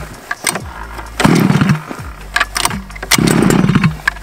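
A gas engine on a Losi 5T RC truck catches after priming and choke, firing in rough, loud sputtering bursts separated by brief pauses, up close with no talking.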